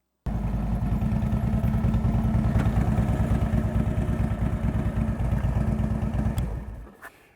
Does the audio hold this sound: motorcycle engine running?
yes